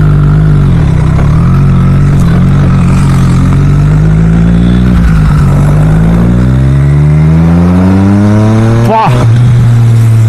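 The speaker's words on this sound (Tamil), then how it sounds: "இதோட எக்ஸாஸ்ட் நோட்டே சும்மா வேறு லெவலில் பிரிக்குது" A Triumph Street Triple RS 765 motorcycle exhaust barks loud and close, the engine revving up and down in sweeping pitch climbs, with a sharp blip near the end.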